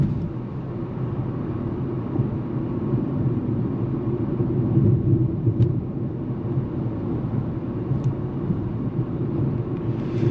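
Cabin noise inside a 2025 Nissan Kicks SR driving on a rough road, a steady low tire and road rumble with a few faint sharp thumps from bumps, no talking.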